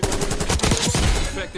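Rapid gunfire in a shooter video game, a dense burst of shots packed tightly together across the whole moment, loud and close with a faint voice mixed in underneath.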